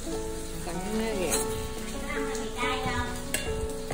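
Banana pieces fry in a pan with a steady crackling sizzle, while people talk over the cooking.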